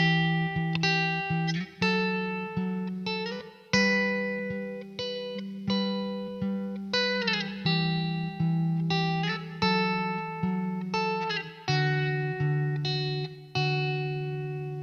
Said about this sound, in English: Let's see what happens if we turn the reverb on.